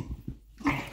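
A husky gives a brief, low, close growl made of a couple of short rumbling pulses followed by a slightly higher whiny grumble.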